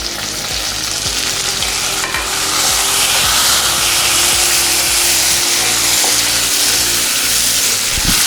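Tomatoes and onion fry in oil in a pan, giving a loud, close sizzle with repeated rhythmic scraping and stirring strokes; no one speaks.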